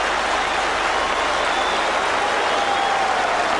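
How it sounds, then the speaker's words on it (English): Football stadium crowd on the Kop at Liverpool applauding during a 1988/89 match, a steady, dense wash of clapping like heavy rain, loud and continuous throughout. "his ears ringing to the applause from the Kop"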